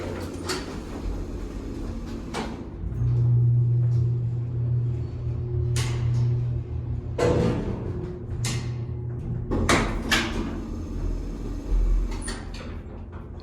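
A vintage Turnbull elevator running in an old building slated for demolition, a low steady motor hum and rumble under clanks and thuds of doors and machinery, loud and close.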